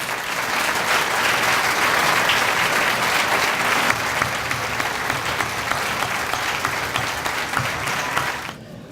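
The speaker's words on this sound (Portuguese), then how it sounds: "para quem peço merecido e respeitável aplauso." A hall audience at a political speech gives sustained, dense applause for Dr. Pires, a steady roar of many hands lasting about eight seconds before fading out.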